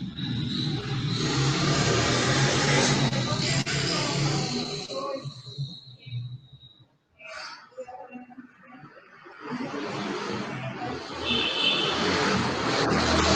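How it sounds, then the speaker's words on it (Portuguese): A car engine roars loudly into an open microphone, a sustained rushing drone that fades to near quiet midway before swelling back up. "Tem um barulho de carro vazando aqui"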